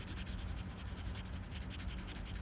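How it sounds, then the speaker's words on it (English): Sandpaper rubs across the body of a model car being built with a weathered finish, producing a steady run of close, rhythmic scratchy strokes with no voices. "I'll just sand the remainder of that down so that we don't get a slight raised section after we go to paint"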